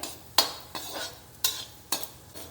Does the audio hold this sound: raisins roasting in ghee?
yes